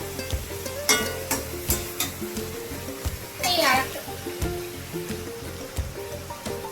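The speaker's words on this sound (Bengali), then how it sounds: "এবারে পরিমাণ মতো জল দিয়ে দিচ্ছি" Water is poured into a pan of frying kasundi chicken, a rushing, splashing gush over a sizzling bed with a louder surge midway, while someone talks over it.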